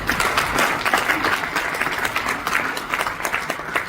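Loud, dense applause from a large audience at a motivational business event honouring Crown Ambassador RK Sharma, with steady clapping running throughout and no speech over it.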